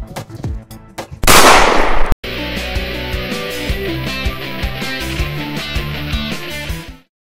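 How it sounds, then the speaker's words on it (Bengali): Gunshot sound effect in a Bengali crime drama, a burst of loud sharp cracks followed by a noisy blast, then a dense dramatic score with rhythmic percussive hits carrying on to a sudden end. "ডন তুই থাম, তোকে আমি কিন্তু গুলি করে দেব"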